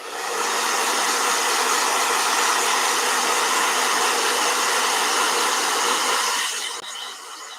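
A blow dryer runs steadily at close range, a loud even broadband whoosh for about seven seconds before dropping to a lower setting near the end.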